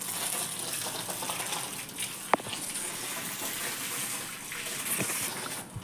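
Water runs and gushes steadily at low volume, with a faint splash or knock partway through.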